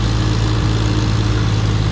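Climbing a full uphill grade with a loaded soil trolley, the Sonalika DI 35 tractor's engine labors in a continuous, close, heavy rumble with no talking.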